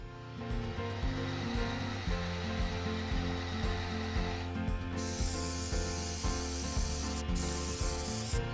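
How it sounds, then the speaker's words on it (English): A hot air gun blows a steady, close rushing hiss while drying primer on a dark-timber turned bowl, with a brighter high-pitched hiss joining partway through and a rhythmic low mechanical hum underneath. "a little bit of help from a hot air gun to speed up the drying process"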